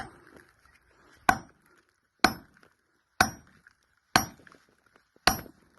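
Five sharp metal hammer blows ring out at an even, unhurried pace, each a loud, close clank with a short ringing decay, as a copper part is knocked out of an anchor, with quiet gaps between strikes.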